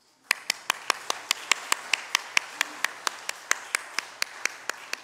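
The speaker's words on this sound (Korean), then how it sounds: "박수로 화답하겠습니다." A church congregation at a Sunday service claps in unison, about twenty sharp, evenly spaced claps in a steady rhythm, fairly close and distinct against a quiet room.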